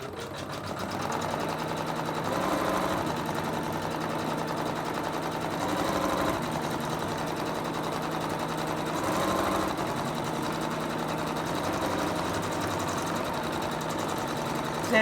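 An embroidery machine stitching a white lay-down outline for a Christmas angel design, a fast steady mechanical whirring with rhythmic needle chatter that continues unbroken at moderate loudness, with no voices.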